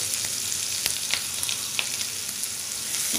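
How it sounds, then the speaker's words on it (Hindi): Chopped onions fry in a pan for a simple boiled-potato dry sabji, a steady close sizzle broken by occasional sharp crackles and light stirring clicks. "अनियन इसमें आप डाल दीजिए थोड़ी देर तक इसे फ्राई करेंगे"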